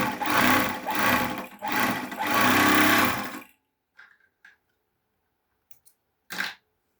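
Three-thread overlocker sewing machine running loud and close in three bursts of rapid whirring over about three and a half seconds, followed by quiet with a few faint clicks and handling noises.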